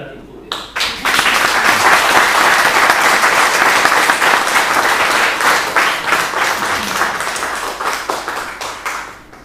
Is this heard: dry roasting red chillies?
no